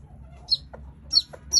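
Hens in a backyard coop with nesting boxes, giving a few short sharp clucks and squawks at close range over quiet background hum.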